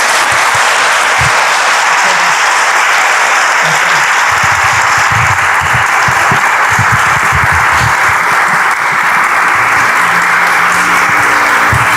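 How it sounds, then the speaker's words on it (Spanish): An audience at a talk about the final life of stars gives a warm farewell round of applause. The clapping is loud, dense and sustained for about twelve seconds, with little crowd murmur. "Y pues la despedimos con un fuerte aplauso."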